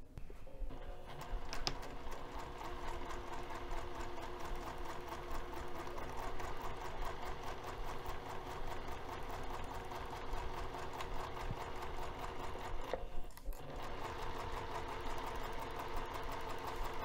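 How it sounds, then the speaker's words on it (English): A sewing machine stitches a cork zipper pouch with a steady, close, continuous mechanical whir that runs almost unbroken, with a brief dip in pace near the end. "Okay, I'm ready to sew."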